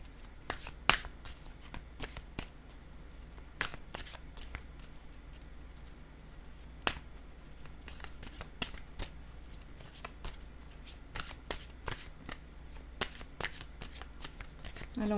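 Playing cards being shuffled before a single card is drawn for an oracle-style reading, producing quiet rapid riffling bursts spread across the stretch with no talking.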